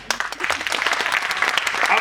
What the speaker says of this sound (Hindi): ताली चाहिए अपन को।